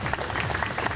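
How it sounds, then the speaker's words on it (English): Audience applause for the tally master at a Las Vegas leather event, a brief burst of steady, dense clapping from a crowd close by. "Please welcome and a big round of applause for our Tally Master Mistress, Aunt Betty."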